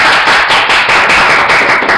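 Dense, continuous applause at a Lucha Libre AAA wrestling event fills the space at close range, loud and steady with rhythmic pulses of clapping throughout.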